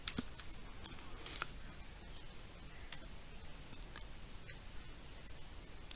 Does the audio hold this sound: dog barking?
no